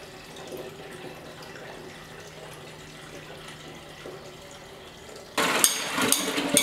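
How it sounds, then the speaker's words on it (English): Tap water gushes loudly into a container to mix soapy water for a Yamaha RS 100 fuel tank rust repair, starting abruptly after a quiet stretch and running steadily to the end. "All right, gonna go get some soapy water."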